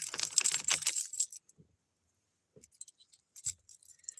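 A ring of keys, including a handcuff key, jangles up close in a bright metallic burst, followed by a few faint isolated clinks and taps amid near silence.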